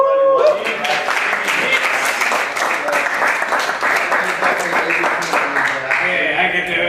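A convention panel audience at Fiesta Equestria 2017 bursts into sustained, dense applause that carries evenly for several seconds, with a few voices cheering within the crowd.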